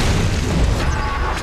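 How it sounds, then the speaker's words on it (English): Bombs from the champion Zilean going off in a League of Legends match, a loud, dense rumble of overlapping booms that fills the whole moment with no pause. "I'm unable to escape from Zilean's skillful placement of his bombs"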